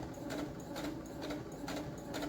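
A sewing machine stitches a custom fabric mask made with sublimation printing, running in quick rhythmic bursts with brief pauses between runs, steady and fairly quiet up close.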